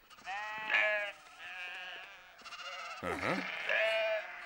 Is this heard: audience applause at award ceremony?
no